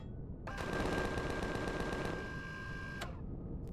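Rapid automatic cannon fire from a drone in the sci-fi survival game Empyrion Galactic Survival, a dense mechanical burst lasting about two and a half seconds and then cutting off sharply, with no talk over it.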